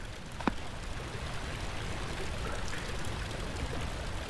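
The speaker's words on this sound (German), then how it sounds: "Ein Rohr ist lose und Wasser läuft aus." Water running and trickling steadily from a loose pipe in a dark horror game, a soft continuous splashing stream at moderate distance, with one faint sharp tick early on and no voices.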